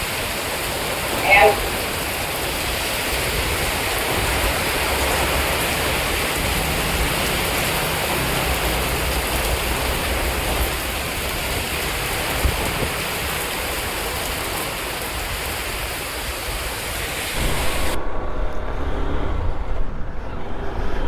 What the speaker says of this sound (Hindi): देखो भाई कितनी जोर की बारिश है यहाँ पर